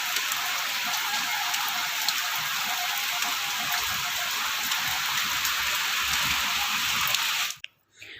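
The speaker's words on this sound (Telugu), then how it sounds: "ఇప్పుడైతే వర్షం స్టార్ట్ అయిపోయింది. చూసారు కదా ఎంత పెద్ద వర్షం పడుతుందో." Heavy rain pours down steadily, a dense loud hiss of drops on surfaces that cuts off abruptly near the end.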